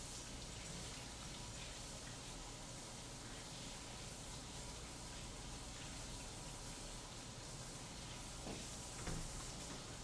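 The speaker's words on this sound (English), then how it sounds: "I'm going to go wash my hands" Tap water runs steadily while hands are washed, a constant broadband gush close by with faint splashes near the end and no talking.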